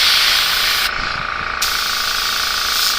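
A steady broadband hiss of a spray gun at very low air pressure spraying thin paint runs throughout, briefly cutting out and resuming, loud and close.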